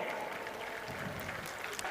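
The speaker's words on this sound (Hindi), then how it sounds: "जोरदार तालियां।" Faint applause from the audience at a government appointment-letter ceremony for young recruits, a soft continuous patter of clapping heard from a distance for two seconds.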